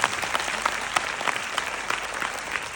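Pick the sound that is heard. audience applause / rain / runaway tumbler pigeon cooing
audience applause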